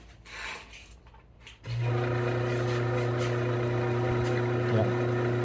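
A QT66 rock tumbler motor with an aluminum pulley starts up and runs with a steady, loud droning hum and faint rubbing, close by after a quiet moment.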